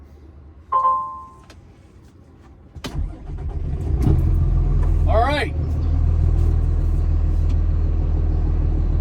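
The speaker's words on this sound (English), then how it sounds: "I'm going to go ahead and turn the key, let it do its little diagnostics before I start it up." A truck engine cranks and catches, then settles into a steady, loud low idle rumble with a brief rising whine, after a short chime; a voice speaks briefly near the start.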